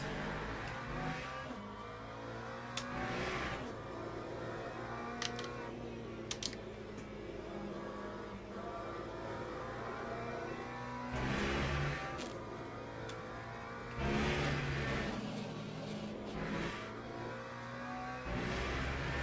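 McLaren GT3 race car engine at COTA in a sim racing video game, with a steady droning engine tone that rises and falls through gear changes and several revving surges, plus faint keyboard or wheel clicks, no talking.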